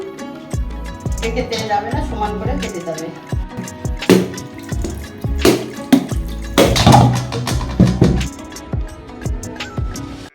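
Bitter water draining and trickling off mashed palm pulp while making taler bora, a Bengali palm fritter, with uneven splashes and drips, a few louder bursts, and voices now and then.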